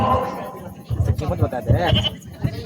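Goat bleats from a goat being sold in an outdoor village drama performed at a Jeth Jatra procession in Simdega, heard several times in short cries under people talking.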